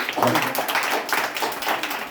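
Children clapping at a birthday celebration at a shiksha kendra in Teliyamura: a short burst of close, irregular applause from a group, with voices mixed in.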